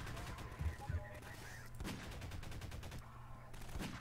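Pulse rifle fire in the video game Garry's Mod, steady rapid automatic bursts with punchy low thumps early on, continuing over several seconds at moderate loudness.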